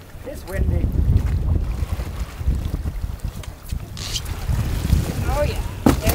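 Gusty wind buffets the microphone in low rumbling waves while pulling stone crab traps, with occasional faint voices and small knocks in the background.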